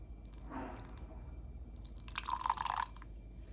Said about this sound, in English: I'm also going to add 2 teaspoons of rice vinegar.